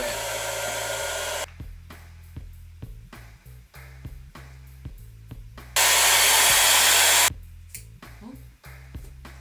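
A hair dryer blows on hair, a loud steady whooshing roar that changes pitch and level as settings or angle shift, with one louder blast in the middle and a few soft voices underneath.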